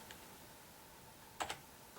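A single key on a computer keyboard is pressed, typing the numeral 5, giving a quick close double click against quiet room hiss.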